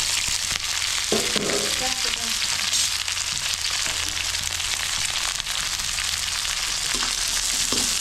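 Onions and green chilies frying in a hot pan for a Telangana uppudu pindi dish, a steady loud sizzle throughout with a few scraping stirs early on and no talking.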